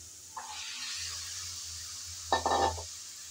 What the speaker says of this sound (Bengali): ডাটাগুলো দিয়ে ভালো করে নেড়েচেড়ে একটু কষিয়ে নেব।